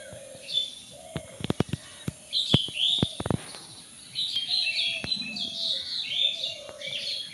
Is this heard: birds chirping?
yes